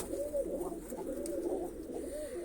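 A pigeon coos in a low, steady, continuous murmur, fairly close and alone, with no talk over it.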